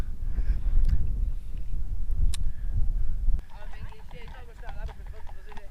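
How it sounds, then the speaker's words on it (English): Horses' hooves clop past along over the heavy low rumbling of a motorcycle, with people talking partway through as the sound shifts and grows quieter. "horses."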